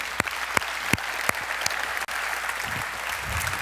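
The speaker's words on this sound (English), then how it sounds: "let's give them a round of applause" A conference audience at a Facebook design talk applauds steadily, dense crowd clapping continuing evenly with a few sharper claps standing out, close and fairly loud.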